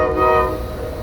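Amtrak's Texas Eagle train pulling out of Hope, Arkansas at night, its horn blaring loud and sustained over the low rumble of the moving train.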